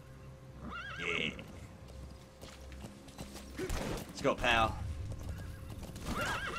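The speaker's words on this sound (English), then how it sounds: "Oh, I forget I can call upon a horse." A horse neighs and whinnies several times over clip-clopping hooves in Metal Gear Solid V, fairly close, with someone speaking briefly among the calls.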